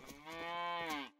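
A single drawn-out cow moo in the farming game Medieval Dynasty, clear and fairly quiet, lasting about a second and heard alone.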